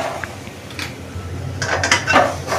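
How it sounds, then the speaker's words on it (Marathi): Grated fresh coconut sautéed over medium-low heat in a pan, with a spoon scraping and clinking against the metal in quick irregular strokes, moderately close and growing busier toward the end. "नारळ असा थोडासा 2 मिनटं परतून घ्यायचा."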